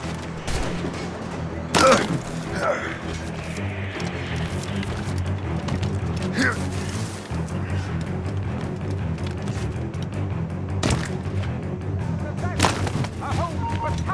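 Gunfire in the video game Assassin's Creed Rogue: sharp, loud shots and cannon-like blasts at irregular intervals over a rumbling battle soundscape, with a few voices speaking.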